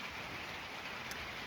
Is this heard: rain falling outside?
yes